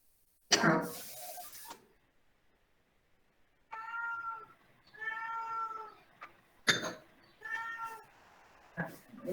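A cat meows repeatedly nearby, several drawn-out tonal cries spaced across the moment, interspersed with sharp noisy bursts and a person speaking.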